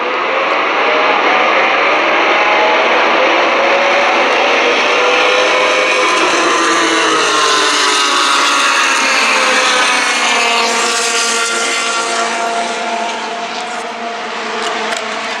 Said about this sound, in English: that big blue Indy car going by at the top of the track